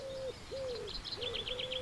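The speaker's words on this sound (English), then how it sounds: "the carol of happy birds fell on his dulled hearing" Birds call in a spring-morning soundscape: smooth, cooing whistles repeat at a moderate pace while quicker, higher chirps flutter in a rapid series, all fairly soft and slightly distant.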